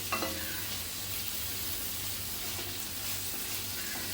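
Chopped onions with coarsely pounded ginger-garlic frying in a pan for chicken lapeta, giving a steady broadband sizzle with occasional stirring scrapes, close and continuous, with no talking.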